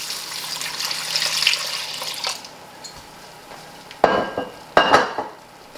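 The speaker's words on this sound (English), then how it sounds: "let me go ahead and add half of this broth, so 1 quart of vegetable broth" A quart of vegetable broth poured into a soup pot for black bean soup makes a sizzling, splashing wash that fades, followed by a few short sloshing bursts near the end.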